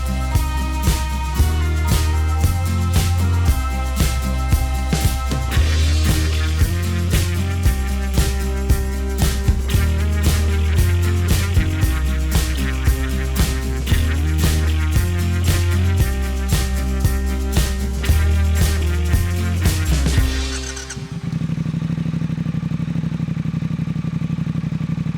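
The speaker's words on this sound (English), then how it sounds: "Let's get this bike outdoors so we can get it fired up and hear what the Motone sound like." A custom Triumph Speed Twin 1200 with a Motone exhaust idles and revs outdoors, its loud, throbbing parallel-twin pulse repeating in a steady rhythm for about twenty seconds before cutting off.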